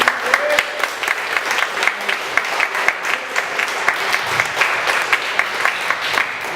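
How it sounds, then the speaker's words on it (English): A crowd applauds at the closing ceremony of a fan convention in Columbia, South Carolina, steady close clapping held for several seconds at an even level. "Everybody give him a round of applause."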